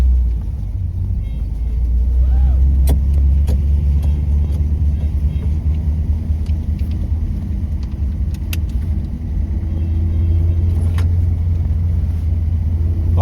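A 1955 Ford Fairlane V8 with a rebuilt Holley 4000 carburetor idles on a road test, giving a steady, close, low rumble that runs unbroken through the whole stretch with faint rattles on top.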